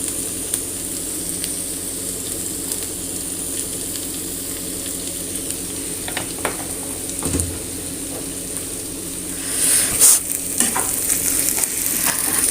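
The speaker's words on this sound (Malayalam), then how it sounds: "ഇനി നമുക്ക് കുറച്ച് കറിവേപ്പില ഇട്ട് കൊടുക്കാം." Sardine peera cooking with curry leaves and coconut oil in a pan, a steady soft sizzle throughout, with a few light stirring scrapes and brief tap water near the end; no voices.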